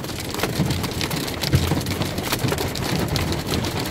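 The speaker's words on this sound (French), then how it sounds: "c'est mon premier orage de grêle dans le camion là." Hail pounds on a camper van during a strong hailstorm. A loud, dense, continuous clatter of impacts fills the interior from close by and never lets up.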